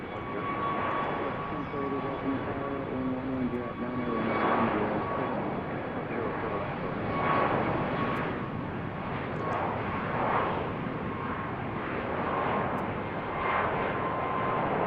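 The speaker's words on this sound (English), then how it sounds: "we're waiting for United to take off for Denver" A United Boeing 737 MAX 9 airliner takes off from runway 15R at BWI airport, bound for Denver: a steady, broad jet-engine roar that swells and sustains for the whole stretch, with a faint voice early on.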